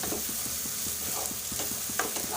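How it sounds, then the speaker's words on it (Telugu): Garam masala being stirred into an egg curry frying in a pan: steady sizzle with regular scraping strokes of the spoon, close and moderately loud, with no voices. "గరం మసాలా వేసుకున్నా కూడా కలుపుకోవాలి."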